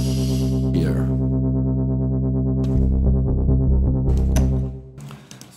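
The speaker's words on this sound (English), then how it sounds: "we go to the page of the filter modulation and we raise the amount of LFO" A buzzy synthesizer tone with an LFO sweeping the filter up and down in a wobbling pattern, playing a few sustained notes alone before fading out.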